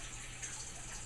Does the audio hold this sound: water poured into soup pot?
yes